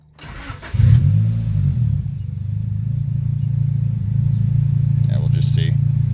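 A 1993 Honda Civic with a turbocharged D15B VTEC engine idles steadily up close after a brief catch and rev at the start, its low hum holding alone, with a few faint clinks near the end.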